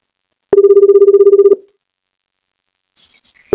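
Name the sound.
phone call ringing after dialing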